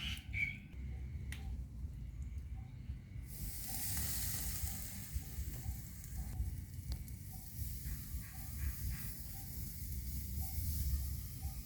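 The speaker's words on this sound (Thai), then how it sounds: "ได้เวลาย่างหมูแล้วเนาะจ๊ะพี่น้อง" Marinated pork face mask sizzles on a grill over glowing coals on a grassy yard at home, a soft, steady hiss and crackle that grows denser partway through, with faint ticks and pops.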